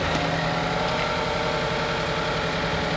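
A Ford Escape Titanium, bought with a blown-up engine, runs steadily on a cold 40-degree day, giving a continuous loud, close engine drone with no pauses.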